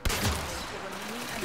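Gunfire in the video game Warframe: a loud burst opens sharply and trails off into a dense, rolling roar of shots over about a second and a half.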